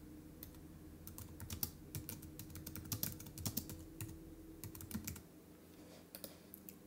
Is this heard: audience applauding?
no